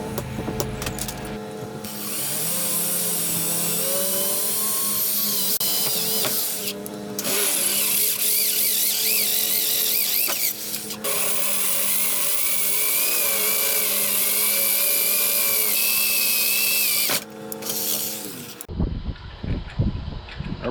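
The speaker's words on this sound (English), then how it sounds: "we'll go ahead and drill through both of those, because we've got some 3/8 bolts we're going to run through" A power drill bores through steel beam bracing for 3/8 bolts on a Volksrod Baja Beetle build. The motor whines loudly in several sustained bursts with short pauses between them, and the drilling ends in a brief clatter.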